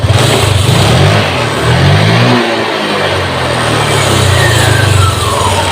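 A Honda Vario 150 scooter with a faulty TPS sensor and high fuel consumption revs up and down loudly at close range, its engine swelling and easing in repeated throttle blips.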